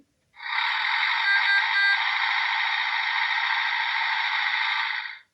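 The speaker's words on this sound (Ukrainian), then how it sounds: "Такий звук робить трактор, коли їде." A toy tractor's electronic sound effect plays once, a harsh buzzy drone lasting several seconds at steady loudness before cutting off.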